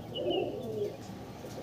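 A single Giriya (Madrasi line) pigeon hen coos in a low, throaty warble up close, with a faint thin chirp from another bird and light room noise behind.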